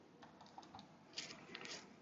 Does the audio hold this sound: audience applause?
no